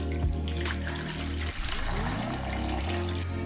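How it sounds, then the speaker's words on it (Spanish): Water pours from a tap into a pot holding jars set on a cloth for sterilizing, a continuous close splashing gush that shifts in pitch as the pot fills. "Le incorporamos el agua para cubrirlos."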